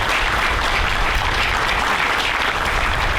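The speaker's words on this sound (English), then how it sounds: "Can we get another round of applause for these guys?" Steady, dense applause from a gathered audience at a Flag Day groundbreaking ceremony, honoring the design and construction team; loud, continuous clapping that holds evenly for the whole stretch with no break.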